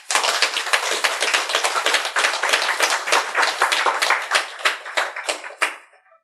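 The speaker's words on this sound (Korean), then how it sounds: "박수." An audience claps at a Buddhist sutra lecture: several seconds of close, brisk hand clapping with distinct individual claps, thinning out and fading away at the end, with no talking.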